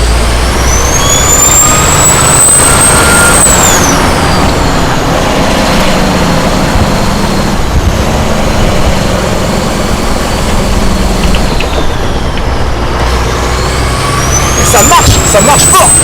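A truck's engine roars loudly and continuously while accelerating during a drift, with a rising mechanical whine sweeping upward at the start and again near the end.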